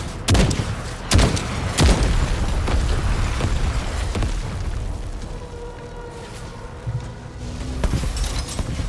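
Missiles burst in sharp, booming explosions in the TankHead video game, several heavy hits clustered early and more spaced later, over a constant rumbling battle din.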